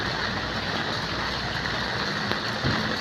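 Heavy rain pours down on a city street near a bus stop and shops, a dense, steady hiss of drops drumming on surfaces, loud and unbroken throughout, with faint traffic underneath and no one speaking.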